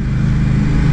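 A 2022 Indian Scout Rogue motorcycle engine running loud and close, a steady low throaty drone that holds for a brief moment without any talking.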